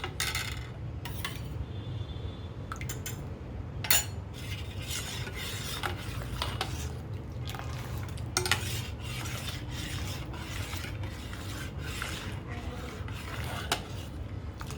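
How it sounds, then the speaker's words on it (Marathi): Milk being stirred continuously in a metal pot while making paneer without lemon or vinegar, a steady scraping and sloshing with spoon clinks against the sides, close and even throughout with no talking. "आपण असं सारखं हलवलं तर पनीर लगेच येईल वरती"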